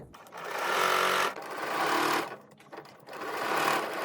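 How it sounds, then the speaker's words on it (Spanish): A sewing machine runs in rapid mechanical bursts while stitching through several layers of fabric for a blouse, stopping briefly between stitching runs, close and fairly loud. "No hay nada más lindo que el sonido de la máquina de coser"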